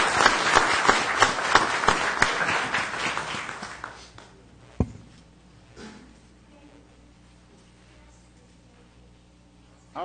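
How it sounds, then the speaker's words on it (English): A round of applause at a city council regular meeting: dense clapping from an indoor audience for about four seconds, then fading into a quiet room with a single knock and faint movement. "Let's give them a round of applause."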